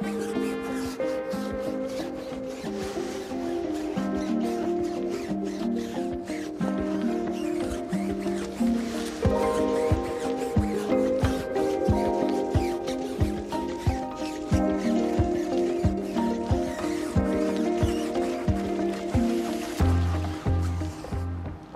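A brush scrubs a tire coated in foaming tire cleaner, giving rhythmic, repeated rubbing and squishing strokes of wet foam, fairly close and steady over a musical background.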